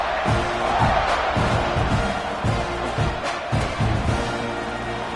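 Football stadium crowd in the College Football 26 video game roars steadily and loudly throughout, a dense wash of cheering with rhythmic low thumps pulsing underneath.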